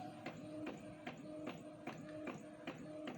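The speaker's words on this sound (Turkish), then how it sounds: "Z harfimizi ayarladıktan sonra yazıcıda çıkarıyoruz" A printer runs steadily, printing a letter Z for mug sublimation, its print head sweeping back and forth in a regular rhythm of repeated mechanical passes, close and moderately quiet.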